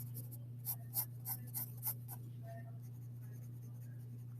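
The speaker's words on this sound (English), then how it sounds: "Very quick shading going on, okay?" Pencil shading on paper while drawing, heard as a run of quick scratchy strokes in a close, quiet room over a steady low hum, easing off after a few seconds.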